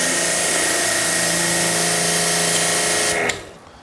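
A pressure washer runs to test a repaired hose, giving a loud steady high-pitched whine and hiss with a constant motor drone that cuts off abruptly near the end, close by with no talking.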